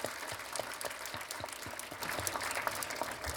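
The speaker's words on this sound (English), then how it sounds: "Once again, let us all give them a round of applause." An audience claps for graduating postgraduate interns at a hospital graduation ceremony, producing a steady patter of many hands with a few sharper individual claps standing out, swelling slightly louder toward the end.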